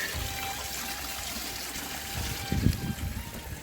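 Cold spring water at Guzoluk trickles from a spout, gathered by a cone-shaped wall rather than a pipe. A steady, close splashing runs throughout and grows briefly stronger and more gurgling near the end, with no talk.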